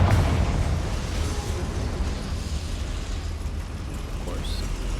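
A Confringo blasting-curse explosion in the Hogwarts Legacy video game, a sudden loud burst at the start that trails off into a long rumbling decay.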